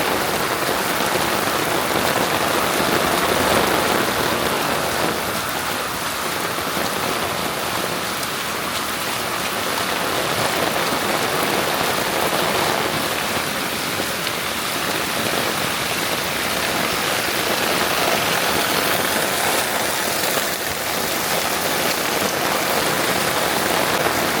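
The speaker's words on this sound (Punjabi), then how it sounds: "ਤੁਸੀਂ ਮੀਂਹ ਦਾ ਨਜ਼ਾਰਾ ਲਓ ਮੈਂ ਗੱਲਾਂ ਥੋੜੀਆਂ ਘੱਟੇ ਕਰਦਾ" Steady monsoon rain pours onto a Punjab village street, a dense continuous hiss of drops on wet surfaces with trickling runoff, loud and even throughout with no voices.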